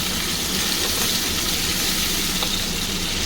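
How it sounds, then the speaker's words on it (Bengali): Potato pieces frying in oil in a pan, a dense, steady sizzle that stays loud and even throughout with no talk. "আমি একটু আলুটা লাল করে ভেজে নেব"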